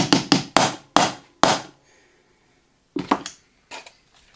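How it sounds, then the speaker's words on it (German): A soft-faced hammer taps AR-15 trigger parts into place with a quick run of six sharp knocks. A pause follows, then a few more lighter taps, all close and clear with no talking. "Dahinter muss man teilweise noch reinhämmern. Da sind wir wieder beim Hammer mit der weichen Kante."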